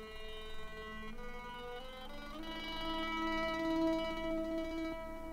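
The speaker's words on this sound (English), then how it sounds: "And then propellers will sound like this." Propellers spinning inside a prepared instrument make a quiet, shimmering whir of overlapping sustained tones that swell and shift in pitch over several seconds.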